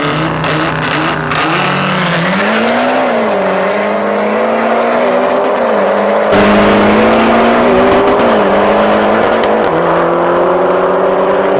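A Mitsubishi Evo 10 and an Audi RS3 street racing, with loud, close engines revving and climbing through repeated gear changes. The roar is continuous and the pitch sweeps up and down over the whole stretch, with no voices.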